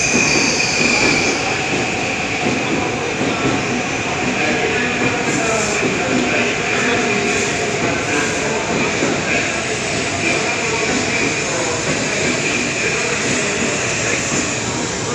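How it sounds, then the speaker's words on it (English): Shinkansen bullet train pulling into a platform at a station in Tokyo, giving a loud, steady rolling roar with wheel squeal and high hiss that lasts the whole stretch, with voices faintly audible. "The 212 service to Sendai is now arriving into platform 21."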